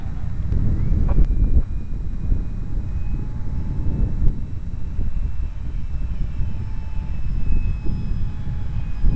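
An EF-16 model aircraft in flight: a steady, fairly loud engine drone with faint high whine, buffeted by wind noise on the microphone, continuous throughout with no talking.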